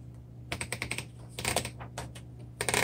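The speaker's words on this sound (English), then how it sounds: "let's do a typing demo and see how this particular typewriter works" Typing on a 1962 Royal Heritage III manual typewriter: quick, crisp clacking keystrokes in bursts, close and distinct, with brief pauses between flurries and no voices.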